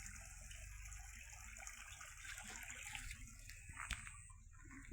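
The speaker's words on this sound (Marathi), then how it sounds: "हे पा चमकुरा मस्तपैकी खळखळ पाणी वाहत आहे" A stream gurgles and flows outdoors. The water makes a faint, steady, continuous rushing with a brief splash-like tick near the end, and no voices.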